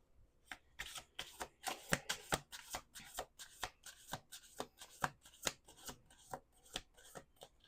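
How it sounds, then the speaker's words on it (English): Tarot cards shuffled by hand in a steady run of crisp riffling bursts, close and fairly quiet, with no voices over them. "2 more shuffles."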